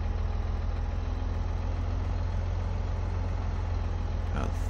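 Tractor engine in Farming Simulator 17 idles with a steady low rumble and a constant drone, running unbroken for the whole stretch at moderate loudness.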